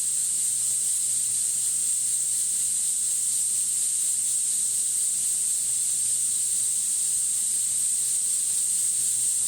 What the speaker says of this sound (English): When the valve begins to hiss, we start a 25-minute count.